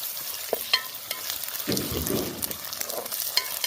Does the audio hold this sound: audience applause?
no